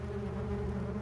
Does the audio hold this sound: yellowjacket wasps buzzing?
yes